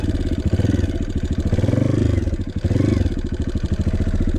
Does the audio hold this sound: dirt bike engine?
yes